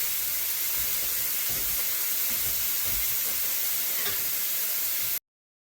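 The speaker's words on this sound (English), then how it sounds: "we're getting a decent sear on this, but I'll tell you, a lot of liquid's coming out" Beef pieces searing in a single layer in a hot wok for a beef and noodle stir-fry, a loud steady hiss of steam and sizzle that runs alone throughout, then cuts off abruptly near the end.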